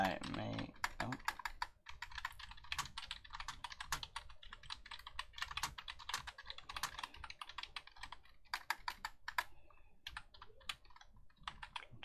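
Typing on a computer keyboard, with quick irregular clicks and key taps close up, tapping on and off throughout at fairly low volume.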